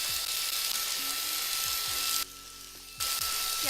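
A pink vacuum cleaner runs with a loud whine that cuts out briefly for under a second, then resumes while cleaning PC fans and components.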